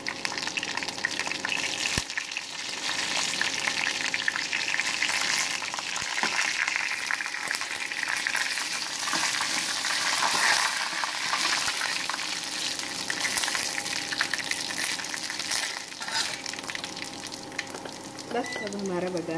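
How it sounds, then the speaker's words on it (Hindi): Garlic and broken chilies fry in hot oil for a dal tadka, giving a continuous, dense, close sizzle with light crackling and occasional stirring scrapes throughout. "ब्राउन होने तक लहसुन फ्राई करेंगे हम।"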